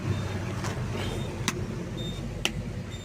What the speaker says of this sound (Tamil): வண்டி ஸ்டார்ட் ஆகிடுச்சு.